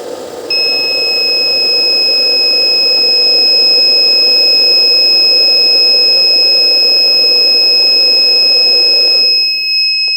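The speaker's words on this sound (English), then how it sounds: "the buzzer alarm started ringing" An Arduino coal mine monitoring alarm buzzer sounds a steady, piercing electronic tone over a constant background hum, holding unbroken for several seconds before cutting off abruptly near the end.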